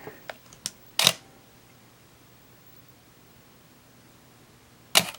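A Minolta X-700 35mm SLR with an MD Rokkor-X 45mm f2 lens fires its shutter at a slow speed set to f16: a few small clicks, then a crisp opening snap and, about four seconds later, the closing clack, all close and clear.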